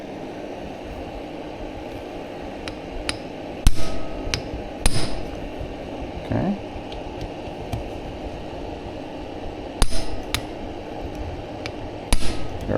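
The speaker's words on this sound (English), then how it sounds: "Give it a couple of whacks with the hammer." Metal hammer strikes ring out while a DRZ400SM flywheel is fitted during an engine rebuild. Several sharp, close whacks come in small groups with pauses between, and one short spoken word is heard.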